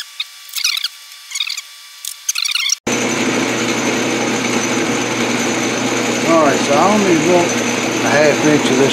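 A metal lathe turns down excess material on a gear blank held between centers. A brief voice comes first, then a steady motor drone with cutting noise runs continuously, and someone talks over it later.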